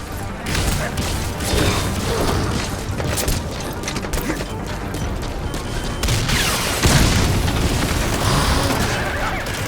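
Honey Bee rocket launcher in Metal Gear Solid V: The Phantom Pain, firing with dense, loud blasts and crashing explosions that run almost continuously, one heavier boom near the end, amid mechanical clatter and brief voices.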